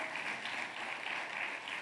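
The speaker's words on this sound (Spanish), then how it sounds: "Dele un fuerte aplauso al Señor" Steady applause from a church congregation during a sermon, a continuous even wash of clapping hands at moderate distance, fairly quiet and without talk.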